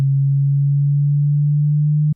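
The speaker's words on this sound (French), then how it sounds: "Voici le son du signal à 130 Hz" A pure 130 Hz sine tone hums steadily and loudly for about two seconds, perfectly even and unbroken, then stops abruptly with a faint click.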